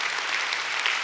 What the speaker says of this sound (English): round of applause for my friends being willing to be uncomfortable